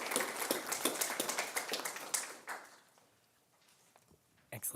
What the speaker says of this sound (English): Let's have a round of applause for our Woodrow crew here